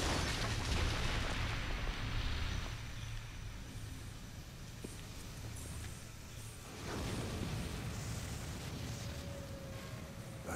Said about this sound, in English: That's cannon fire.